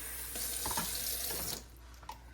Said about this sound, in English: So I'm just going to pour a little bit of tap water out of here.